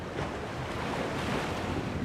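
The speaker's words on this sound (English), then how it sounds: "Oh, those are pretty waves." Ocean waves in a video game animation make a continuous wash of surf and rushing wind, steady and fairly loud, with no talking.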